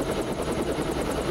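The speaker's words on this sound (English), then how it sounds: "We're gonna fly a helicopter from New York to Hong Kong." Helicopter in the Deus Ex video game, a continuous rapid rotor chop over a broad engine whine, loud and steady throughout with no voices.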